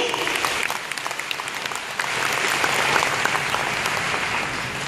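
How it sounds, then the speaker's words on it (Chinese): An audience at a Jeunesse Taiwan sharing event claps steadily, a dense wash of hand claps that holds level and swells slightly midway. "大家掌声鼓励。"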